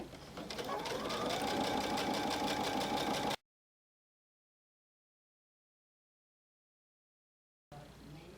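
A sewing machine runs steadily, stitching straps onto a shop hop bag, for about three seconds, then stops into silence before the motor starts up again briefly at the end.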